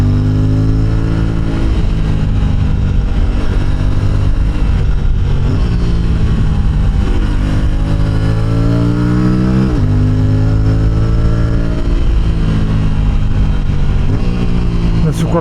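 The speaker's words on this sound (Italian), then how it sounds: "Che bello avere una moto che adesso ha potenza, perciò se voglio superare in salita non ci sono problemi." Aprilia RS457 motorcycle engine revving and pulling hard uphill, pitch climbing through repeated gear changes, loud and close throughout.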